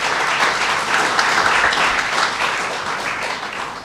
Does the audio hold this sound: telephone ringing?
no